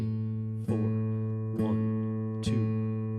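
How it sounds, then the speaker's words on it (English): Three evenly spaced plucked guitar notes ring out as quarter-note beats in a rhythm lesson, each a sharp attack decaying into a sustained tone, loud and close with no voice. "Quarter notes sound like this."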